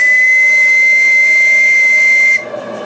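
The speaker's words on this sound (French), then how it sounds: "Au pire le sifflet servira de soupape" A loud, piercing steam whistle on a model live-steam boiler shrieks steadily for about two seconds, then cuts off, leaving a softer hiss of escaping steam.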